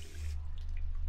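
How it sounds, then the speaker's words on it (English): Tap water runs from a faucet for a drink in We Happy Few, a steady close splashing stream with a low hum beneath it. "I can drink from the tap"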